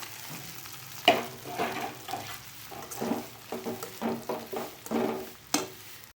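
Boiled vermicelli stirred into a hot pan for ragi semiya upma, with dried red chillies already in it: bursts of sizzling frying paired with repeated scraping stir strokes, close and fairly quiet, no voices.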